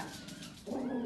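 A dog gives a single short whining yelp near the end of the clip, fairly close and clear over low room noise, with no talking.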